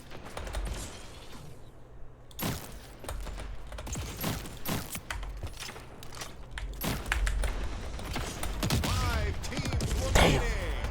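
Gunfire in the video game Splitgate 2, several sharp loud shots and bursts spaced across the scene amid mechanical clicks and footsteps, with a player talking over parts of it.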